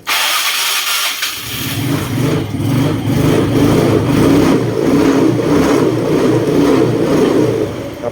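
A Yamaha Fino scooter engine cranks and fires after about a second of quiet, then keeps running with an uneven, pulsing idle and a few slight revs, close and loud.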